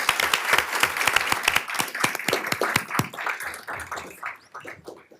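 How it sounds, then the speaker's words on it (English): A crowd at a city council meeting claps in a dense burst of applause that thins out and fades over a few seconds, heard from within the room. "Let's give them all another round of applause."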